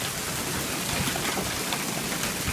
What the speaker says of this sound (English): That's not snow, that is hail.